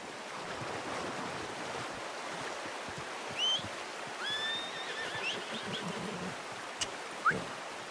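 A horse in the video game Red Dead Redemption 2 whinnies a couple of times over a constant wash of wind and water, the calls thin and moderately distant.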